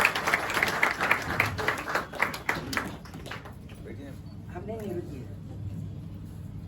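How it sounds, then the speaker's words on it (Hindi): An audience claps for an honouree at a hometown honouring ceremony, with strong applause at first that thins and dies away by the midpoint, leaving quiet room tone and a faint voice. "तालियां थोड़ी जोरदार बजनी चाहिए।"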